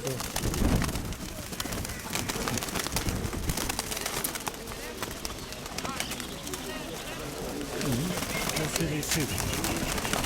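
Pigeons cooing and calling amid a busy outdoor poultry fair, with people talking nearby throughout and a steady crowd murmur underneath the birds.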